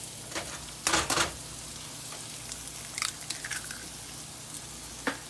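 Potatoes and onions fry in oil over high heat, giving a low steady sizzle with a few louder bursts of stirring or shifting in the pan, heard close with no talk.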